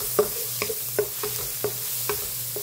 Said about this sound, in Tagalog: Igisa ang bawang. At isabay na rin ang sili.